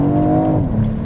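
A BMW Alpina engine revving hard under acceleration in second gear at about 5,000 RPM, a loud, close droning tone that drops in pitch partway through as the gear load shifts.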